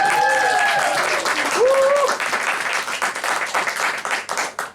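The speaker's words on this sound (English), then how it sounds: "Thunderous applause." A comedy club audience breaks into loud, sustained clapping and cheering, a dense wash of applause that gradually thins toward the end.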